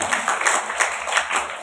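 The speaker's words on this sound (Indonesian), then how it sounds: "Tepuk tangan untuk Jawa Tengah." Audience in Central Java breaks into applause, a brief burst of scattered clapping with soft pulsing peaks, moderately loud and fairly close.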